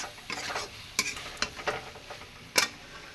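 Potato curry sautéing in a pan, with soft sizzling under a handful of sharp scraping and tapping stirs spaced irregularly, one louder clack near the end.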